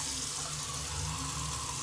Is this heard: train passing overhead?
no